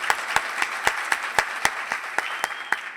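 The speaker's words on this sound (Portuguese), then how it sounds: "Merece uma salva de palmas extra por isso" A conference audience breaks into applause for a sponsor, a sustained wash of many hands with sharp, regularly spaced louder claps standing out near the front, heard alone without talk.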